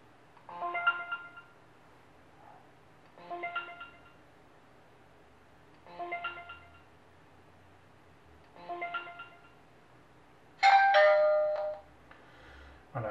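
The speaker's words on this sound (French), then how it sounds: "j'indique que j'ai bien entendu le ding-dong" Netvue Vigil 2 outdoor security camera sounds a ding-dong chime confirming a QR code scan: four evenly spaced two-tone chimes, fairly faint against quiet background hiss, then a brighter, louder electronic tone near the end.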